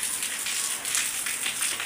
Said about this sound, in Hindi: आप लोग भी इंजॉय करें बारिश को, क्योंकि गर्मी की बारिश है।